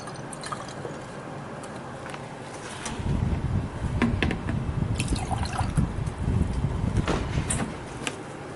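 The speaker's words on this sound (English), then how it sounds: "this is the blank sample in which we are going to put only aerated water." Aerated water is poured into a BOD blank sample bottle in a lab, a steady trickling, gurgling pour that swells after a quiet start and runs close and moderately loud for several seconds, with no talk.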